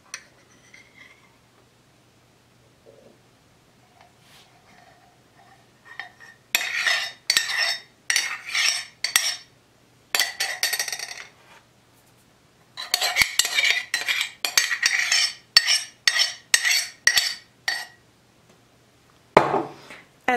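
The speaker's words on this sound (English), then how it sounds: "after you stirred it, now what we want to do is just spill it onto the tray." A metal spoon scrapes and taps against a tray while stirred yogurt culture is spread out, coming in rapid clustered bursts of clinks separated by short quiet gaps, close and fairly loud with no talking.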